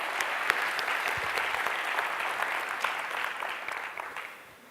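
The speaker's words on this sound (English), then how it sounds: "Let me just start by asking for a round of applause for the folks at Finnovista" Applause from a conference audience at a fintech event in Mexico, a dense steady clapping that carries through and fades out toward the end, no voices over it.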